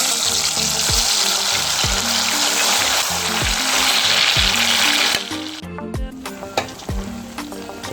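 Ripe plantain slices fry in hot oil with a loud, steady sizzle that drops noticeably partway through and continues more softly with crackles and faint stirring.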